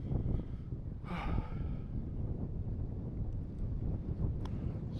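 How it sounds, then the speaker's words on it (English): Strong north wind on the Arctic Ocean shore roars against the microphone as a steady low rumble, with a sharper gust burst near the start and no voices. "Super windy."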